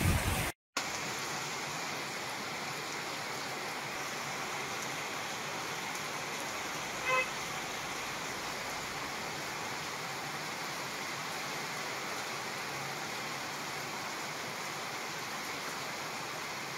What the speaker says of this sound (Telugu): ఉమ్మడి వరంగల్ జిల్లా వ్యాప్తంగా తుఫాన్ ప్రభావంతో భారీ వర్షం కురుస్తోంది.